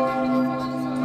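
Church bells ring near St. Martin's Church in Chur, a loud, sustained metallic toll with rich overlapping overtones that hangs without a break.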